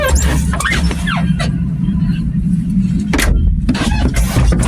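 A diesel tractor engine cranks and rumbles into a steady idle close by, loud low-end chugging dominating throughout.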